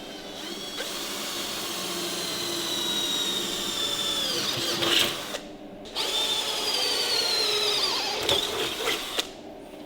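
A power drill bores holes in a motorcycle stand for a Harley-Davidson WLC, its motor whining steadily and rising and falling in pitch as it bites, with brief stops between runs.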